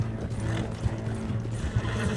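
A horse whinnies in the Red Dead Redemption 2 video game, a sustained neigh with hoof clip-clop beneath it, steady and fairly close throughout.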